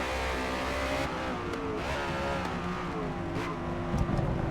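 A race car in Forza Motorsport braking hard into a hairpin on the Nürburgring, the engine note dropping through the gears under loud, steady road and tire noise, with a short squeal near the end.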